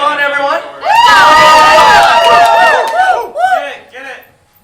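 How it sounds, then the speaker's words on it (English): A game show audience in a live studio cheers and whoops in one loud burst that swells and holds, then fades into scattered shouts. "All right, cheer them on, everyone."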